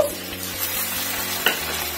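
Finely chopped tomatoes hitting a pan of frying onion, ginger and garlic for a Gujarati khatta moong dal give a steady close sizzle, with a short scrape of stirring partway through.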